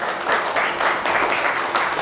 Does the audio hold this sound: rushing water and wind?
no